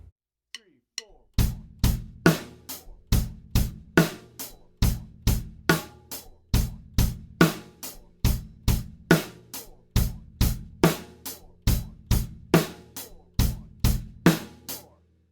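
A drum kit plays a quarter-note beat with bass drum and hi-hat, now at a faster tempo, dense repeating hits in a steady driving pattern, close and alone without talk.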